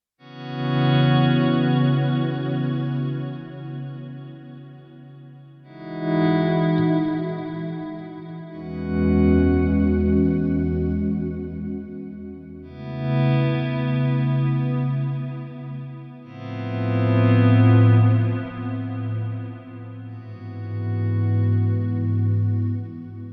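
Sustained electric guitar chords through a Fractal multi-tap delay inspired by Eventide and Lexicon, washed in repeating delay echoes, swelling and overlapping in long phrases with a shimmering, spacious tail.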